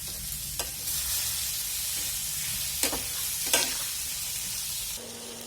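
Potatoes sizzling in hot oil with a spice paste in a pan, a steady close frying hiss with a few brief scrapes of stirring.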